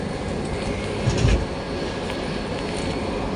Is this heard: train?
yes